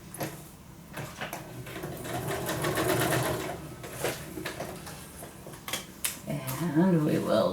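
A sewing machine stitching around fabric for a handmade journal, a fast mechanical whir with a rattling rhythm that swells and fades, joined near the end by a voice.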